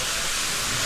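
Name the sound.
1929 steam locomotive hissing steam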